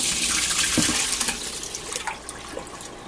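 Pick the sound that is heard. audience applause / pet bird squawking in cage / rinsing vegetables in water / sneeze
rinsing vegetables in water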